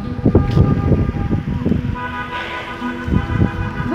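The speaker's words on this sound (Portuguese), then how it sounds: "Buzina, viva Nossa Senhora de Fátima" Car horns honk repeatedly at a religious procession for the patroness Nossa Senhora de Fátima in Fortaleza, Ceará, Brazil, sustained tones over a dense outdoor crowd and street noise.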